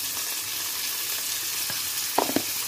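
Salmon fillet frying in a pan, seasoned with herbes de Provence and white pepper, gives a steady, even sizzle throughout, with a few sharper crackles near the end and no voices.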